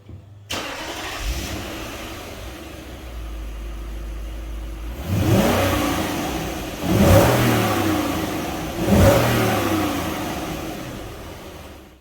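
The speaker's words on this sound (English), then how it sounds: "I'm going to let you guys hear what it sounds like stock" A Lexus LS460 with stock exhaust starts and idles, then revs three times in rising, rumbling surges, fairly muted and close, settling back to idle between each.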